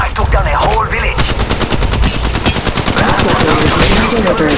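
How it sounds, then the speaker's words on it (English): Rapid automatic gunfire from Apex Legends Mobile rattles on without a break, loud and close, layered with overlapping shots and game effects. "Shots fired at me."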